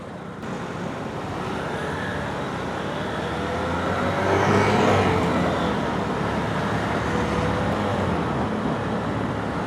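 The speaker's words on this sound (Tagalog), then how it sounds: "Ang daming sasakyan, grabe." Dense road traffic in Taiwan rolls past a motorcycle in a steady, broad roar, with vehicle engines swelling slightly near the middle as something passes close, then settling back into continuous roadway noise.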